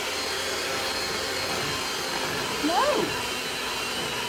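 A powerful electric mixer whirs steadily and loudly through cake batter for a chocolate cream cheese pound cake, a constant motor drone with a brief voice heard over it near the end.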